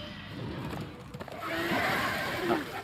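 A horse neighs and whinnies in the video game Darksiders 2, with hoofbeat clip-clop and game ambience running steadily underneath for about three seconds.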